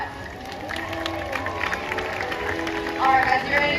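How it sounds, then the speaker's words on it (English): An audience at a SeaWorld San Diego orca show claps and cheers, a crowd rumble that builds toward the end, while a presenter's amplified voice talks over it. "Everyone give them a big round of applause"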